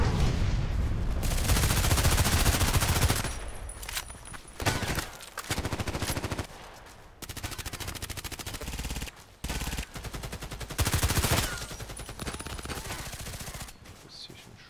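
Rapid automatic gunfire in an online shooter match, sustained loud bursts and volleys that stop and start in choppy stretches, with occasional heavier booms and brief near-silent breaks between.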